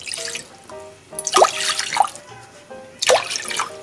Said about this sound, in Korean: 물 3컵 넣어주세요.